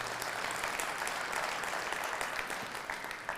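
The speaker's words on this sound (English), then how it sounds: "and give them a round of applause." Applause from an audience at a live State of the City address in Flint, a fairly quiet, even spread of clapping heard from some distance.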